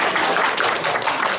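Audience applause at a Christmas matinee, a dense, loud burst of many hands clapping together throughout.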